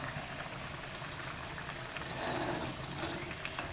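Fish curry bubbling in a pot on the stove, a steady close low boil with soft popping that holds at an even level with no voices.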